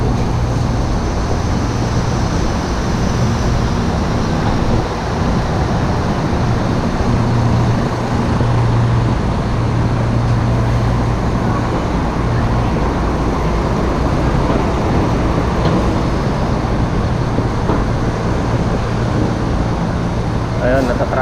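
City road traffic in Singapore heard while cycling near Woodlands Waterfront Park, a steady, loud wash of passing cars, buses and trucks that holds for the whole stretch with no breaks.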